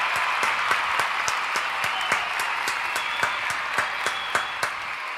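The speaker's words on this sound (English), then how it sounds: "we got to give a round of applause for Anthran" A round of applause with steady, continuous clapping at moderate loudness and a few sharper individual claps standing out, no voices over it.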